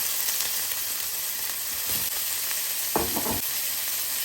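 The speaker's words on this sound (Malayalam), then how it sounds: "പാൻ ചൂടാക്കി അതിലേക്ക് എണ്ണ ഒഴിച്ച് അരിഞ്ഞു വെച്ചിരിക്കുന്ന സവാള ചേർക്കാം" Sliced onions and other vegetables frying in hot oil in a pan, a steady close sizzle throughout with a couple of short scraping stirs.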